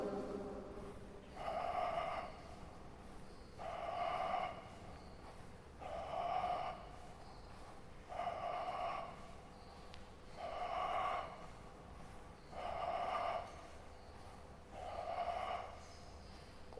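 Heavy, drawn-out breaths repeat steadily about every two seconds, each a rising and falling rush of air from someone doing a lying yoga cycling exercise with both legs raised, close and moderately loud with no talking.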